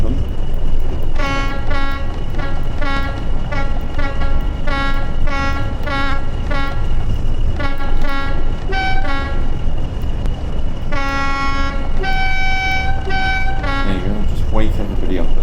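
A train horn toots repeatedly in short, stacked harmonic blasts over a steady rumbling background, with several longer blasts near the end, in the Train Sim World 5 video game.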